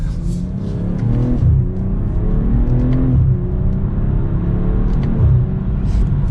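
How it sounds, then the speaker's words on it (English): A 2023 BMW M340i sedan pulls hard from first gear, its engine note rising in steady harmonic sweeps with a brief dip at each shift, loud and continuous from inside the cabin. "we'll give it an acceleration from first gear"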